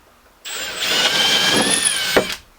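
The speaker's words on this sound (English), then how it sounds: "5mm drill bit to open up the hole in the ply." A power drill with a 5mm bit starts abruptly and whines loudly for about two seconds as it bores through plywood, pitch rising slightly, then spins down.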